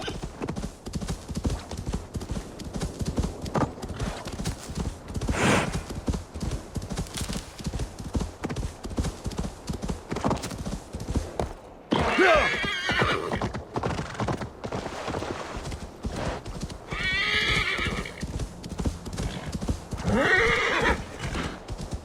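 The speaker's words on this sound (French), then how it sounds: "Tiens, viens là le cheval" A horse in Assassin's Creed Valhalla clip-clops steadily along a path for a long stretch, its hooves a constant rhythmic patter, with loud whinnies breaking in a few times against background game sounds.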